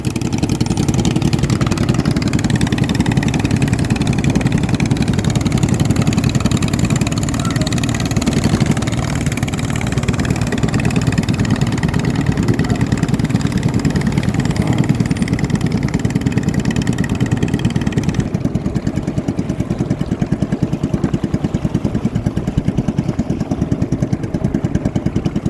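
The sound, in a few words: racing boat engines accelerating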